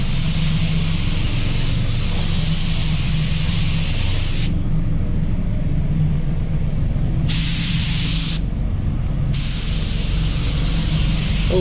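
Walcom HVLP spray gun hissing steadily while laying wet-on-wet primer on a car panel, the spray stopping briefly twice and resuming, under a constant low booth or compressor rumble, with no talk.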